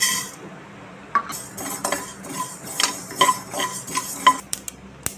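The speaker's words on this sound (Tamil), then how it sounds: "வானல் சூடாயிடுச்சு, கடுகு வெந்தயம் சேர்த்து வறுத்து எடுத்துக்கலாம்." Mustard seeds and fenugreek roast in a hot pan for lemon pickle, with close metallic scraping and clinking of a spoon stirring, scattered ticks and faint sizzling, no talk.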